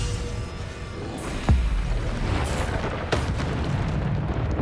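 Bombarda spell explosions in Hogwarts Legacy, several deep booming blasts spaced a second or so apart, loud over a steady rumbling game backdrop.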